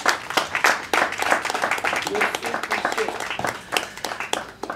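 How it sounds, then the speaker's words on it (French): An audience applauding a comedy duo at a relaxed café-style show, uneven clapping with sharp individual claps and a pulsing rhythm, fairly close, with some voices mixed in. "Il s'agit bien sûr de Gros et Métis qu'on va applaudir, mesdames et messieurs, s'il vous plaît."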